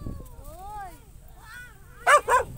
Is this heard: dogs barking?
yes